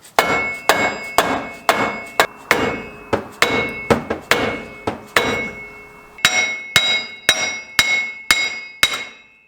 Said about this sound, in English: beat it with a hammer until it breaks loose